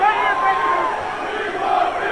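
A wrestling arena crowd cheers and roars in a steady, loud wash of many voices that fills the whole brief moment.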